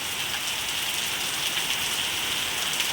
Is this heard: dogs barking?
no